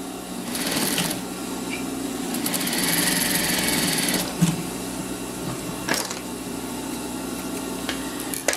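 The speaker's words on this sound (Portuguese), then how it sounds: "Vou passar uma costurinha aqui." A sewing machine stitches fabric for a small two-zipper bag, giving a steady mechanical whirr that speeds up in the middle, then slows into short runs with a few clicks and handling noises, close by.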